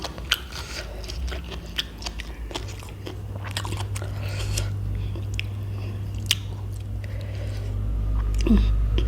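Crunchy, wet chewing and biting of spicy papaya salad with fermented fish, pickled shellfish and silkworm pupae, close and loud, in an irregular rhythm with mouth noises and some low talk mixed in.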